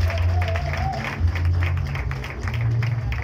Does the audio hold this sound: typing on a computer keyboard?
no